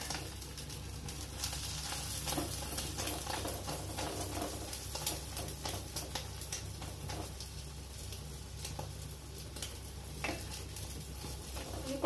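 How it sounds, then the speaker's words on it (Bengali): Egg omelette frying in oil in a pan, a continuous close crackling sizzle with faint stirring scrapes and no voices. "আমি এইভাবে ডিমের অমলেটগুলো বানিয়ে নিচ্ছি"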